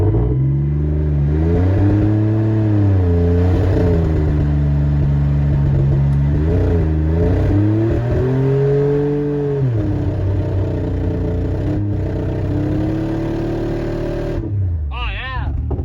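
A 2004 Dodge Dakota pickup engine revs loudly after a cold start, its pitch climbing and falling through several sustained blips over a steady idle, close to the microphone, with a brief voice near the end.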